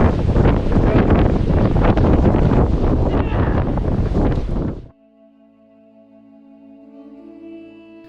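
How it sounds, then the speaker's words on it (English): Strong wind buffets the microphone at the Abbey of Sant Pere de Rodes with loud, roaring gusts for about five seconds, then cuts out abruptly, leaving a faint steady hum behind. "It's very windy"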